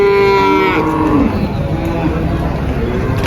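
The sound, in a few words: Limousin bulls at Muntilan cattle market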